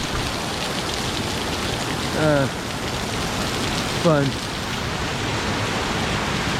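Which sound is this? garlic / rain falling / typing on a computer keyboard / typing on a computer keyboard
rain falling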